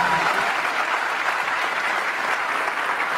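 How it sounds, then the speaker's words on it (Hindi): An audience gives sustained applause for a guest speaker at a session, a thick, even roar of many hands clapping that stays loud and steady from start to finish. "एक बार ताली है हाँ सर के लिए।"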